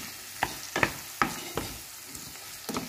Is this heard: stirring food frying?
yes